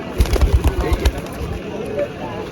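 Giribaz pigeons at a busy livestock market in Rajshahi, soft low coos and wing flutters mixed into dense crowd noise, with voices talking throughout.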